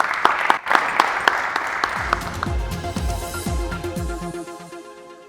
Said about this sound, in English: Round of applause to Ray.